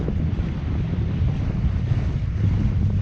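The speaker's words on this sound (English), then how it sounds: "But the wind has picked up a lot since I seen you guys last." Strong offshore wind buffets the microphone on a small 17-foot boat, a steady loud low rumble of gusts with water and surf noise blended in, continuous for the whole stretch with no talking.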